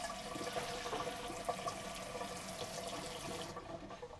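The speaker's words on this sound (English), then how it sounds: "we're going to add a little bit of water to make sure this comes up to 3/4 of a cup" Water poured into warm milk in a measuring cup while making chocolate frosted doughnuts, a steady close splashing pour running about three and a half seconds before easing off, with no talking.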